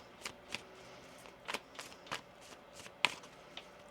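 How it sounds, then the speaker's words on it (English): Tarot cards being shuffled in a series of quick, crisp riffling bursts, fairly quiet with a faint steady background hum. "One more shuffle here."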